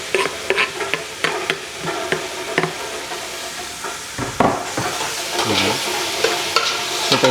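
Onion fries with bitter gourd and pork in a pan, giving a loud, close sizzle with repeated clattering stirs and scrapes of a utensil.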